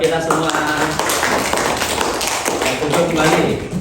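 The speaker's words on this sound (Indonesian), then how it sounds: "tepuk tangan buat kita semua." A classroom group claps their hands together in a dense, steady patter of applause lasting the whole stretch, with voices mixed in underneath.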